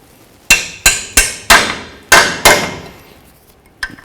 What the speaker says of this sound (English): A little punch and a hammer here